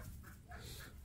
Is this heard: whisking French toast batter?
no